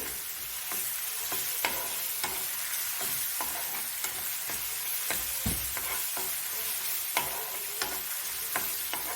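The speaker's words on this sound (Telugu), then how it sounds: "చక్కగా వేయించుకుందాము ఆయిల్ తక్కువగా ఎలా పైకి వెళ్తుందో చూడండి ఇది వేగుతూ" Ginger garlic paste fries in oil for a small-fish and raw-mango curry, a steady close sizzle broken by frequent sharp ticks and scrapes of a spoon stirring the pan.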